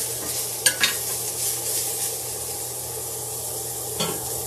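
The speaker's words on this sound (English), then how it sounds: "Mix these other vegetables around. Again, I want to make sure I'm not burning the bacon there." Vegetables and bacon are stirred in a frying pan, a steady loud sizzle with a low hum underneath and a few sharp spatula scrapes and clicks, no voices.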